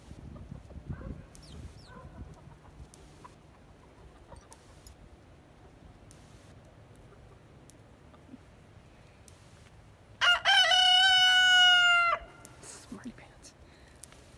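A rooster crows loudly once, a long ringing call, after a stretch of quiet farmyard ambience with faint clucks and rustling.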